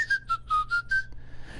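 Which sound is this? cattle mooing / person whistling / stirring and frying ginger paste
person whistling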